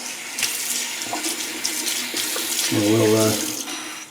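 Tap water runs over a sterling alum block as it is rinsed after shaving. A steady faucet stream rises into a fuller gush near the end while someone talks briefly.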